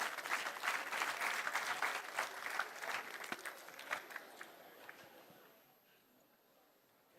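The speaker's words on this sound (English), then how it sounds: "Let us give a huge round of applause" Warm applause from the gathering at an international law and peace symposium greets the chief guest, a dense patter of claps that gradually thins and fades to near silence over several seconds.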